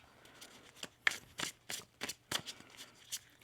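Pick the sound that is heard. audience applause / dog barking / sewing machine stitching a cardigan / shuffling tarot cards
shuffling tarot cards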